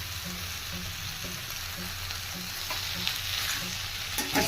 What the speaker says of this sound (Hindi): अब मैं इसमें बॉइल्ड पोटैटो डाल दूंगी